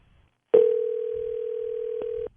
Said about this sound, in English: Don't you think she should answer the phone faster than that, Shane?